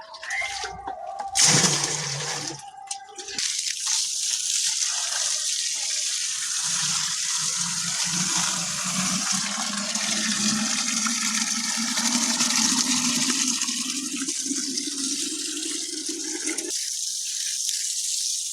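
Liquid jeevamirtham solution mixed with water is poured out onto banana plants outdoors, a sustained rushing gush of water splashing down, with brief clattering handling sounds at the start and faint birds behind.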